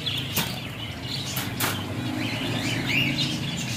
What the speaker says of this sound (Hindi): ये ज़ेब्रा फिंचेस के पीसेस पड़े हुए हैं